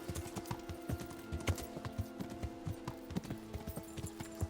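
Horse hooves clip-clop at a steady walking rhythm in the Kingdom Come: Deliverance video game, a regular series of close, moderately loud thuds over a faint tonal background hum.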